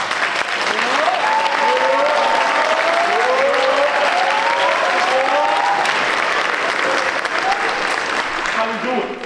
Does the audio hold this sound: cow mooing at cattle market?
no